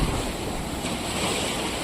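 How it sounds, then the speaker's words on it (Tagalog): Big storm waves break on the shore at Nasugbu beach under strong typhoon wind, a continuous loud roar of surf with heavy wind buffeting the microphone. "ang lalaki ng alon na hampas dito sa may Nasugbu"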